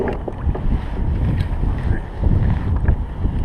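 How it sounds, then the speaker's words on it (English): Wind buffets the microphone outdoors on the water during kayak fishing at a tournament, a constant low rumbling roar with gusty swells and no talking. "Honestly, the wind isn't that bad."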